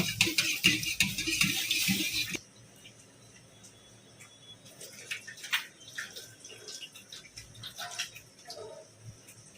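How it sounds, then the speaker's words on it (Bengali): Lentils being rinsed in pump water, with a loud splashing pour for about two seconds, then quieter trickles, drips and small sloshing sounds near at hand. "ডালটা একটু পাম্পের জলে ধুয়ে নেব"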